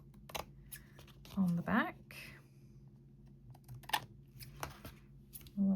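Scissors give a slight trim to the edge of a handmade paper greeting card, a few short snipping and rustling clicks close by, with a person talking quietly in between.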